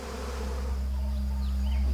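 Honeybees massed in rows at their hive entrance, bodies forming a defensive shield against hunting hornets, produce a steady, close droning buzz that holds unbroken throughout with a low hum beneath.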